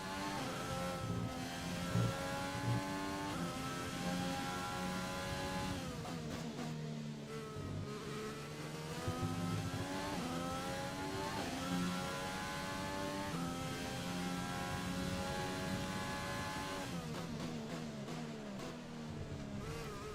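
An F1 race car engine in the F1 2020 video game howls continuously, rising in pitch through repeated upshifts with sharp drops between gears, steady and fairly loud for about twenty seconds with no voices.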